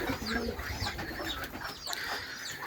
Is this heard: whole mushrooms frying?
no